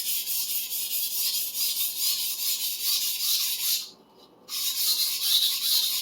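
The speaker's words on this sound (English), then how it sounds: "This is still considered a coarse stone, but it's a lot smoother and finer than the 140 grit diamond plate. It's a 400 grit whetstone" Kitchen sujihiki blade scraped back and forth on a soaked 400 grit whetstone, a steady close wet rasp of repeated strokes with a brief pause near the end before grinding resumes.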